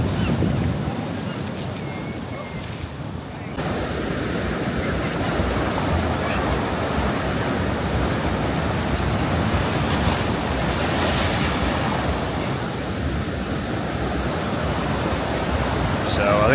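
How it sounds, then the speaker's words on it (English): Storm waves crash onto the shore at Blackpool during a storm near high tide, a loud, continuous roaring surf with wind noise, heavy and unbroken throughout. "just watching this as the waves come crunching in"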